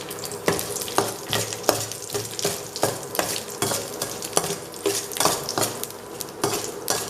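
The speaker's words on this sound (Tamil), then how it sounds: "கடுகு பொரிஞ்சிடுச்சு. இப்போ அதோட கருவேப்பிலை, அதோட உளுத்தம்பருப்பு சிறிது," Mustard seeds, curry leaves and urad dal sizzle in hot oil in a pan while a spoon stirs and taps the metal, giving sharp clinks at a fairly regular rhythm over a steady frying hiss.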